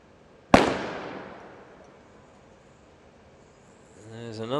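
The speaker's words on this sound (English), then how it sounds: "There's another shot from the top of the tower, and another miss." A single sharp sniper rifle shot cracks out from the top of a tower at a SWAT challenge, its loud report decaying into a long echoing tail across the open ground, with faint voices rising near the end.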